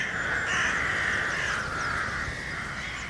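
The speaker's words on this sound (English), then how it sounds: "Now, the cries of the hooded crows echo across the city." Hooded crows cawing across a city in Vienna, a continuous chorus of harsh calls from several birds at middle distance over a steady urban hum, with no voices.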